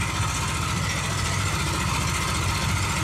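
A Honda EB 6500 generator engine that had sat unused for years runs steadily on auto throttle, a loud, close, continuous low rumble that holds even throughout with no voices.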